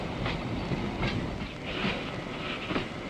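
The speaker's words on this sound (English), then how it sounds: "each train pulling 700 tons of logs to become sawn timber or newsprint" A heavy log train carrying about 700 tons of logs rumbles along the rails in New Zealand with a steady roar and faint rhythmic clacking, continuous and fairly close.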